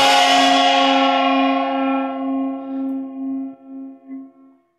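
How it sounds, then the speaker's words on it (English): A single bell strike at a conference lightning-talk session rings out loud and clear, its bright tone slowly decaying with a pulsing, wavering hum over several seconds. "I was about to hit the bell."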